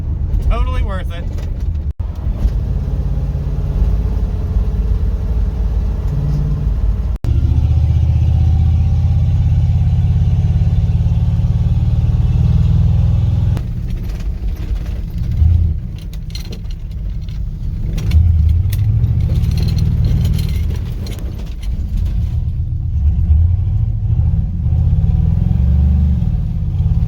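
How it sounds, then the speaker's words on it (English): Loud exhaust rumble and revving come from a car running Evil Energy remote-controlled electric exhaust cutouts, heard up close in sustained surges that rise and fall across the stretch. "That is electric exhaust cutouts from Evil Energy."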